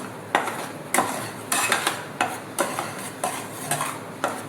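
Roasting flour for sukhdi is stirred steadily in a metal pan, a regular series of scraping strokes about every half second, close and clear with a faint sizzle underneath, no talking.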